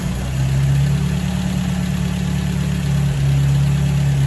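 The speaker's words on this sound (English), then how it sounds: "It's running again!" An MG TF engine idles close by with a steady, low, even hum and a faint mechanical tick, dipping briefly near the end before settling again, with no voices.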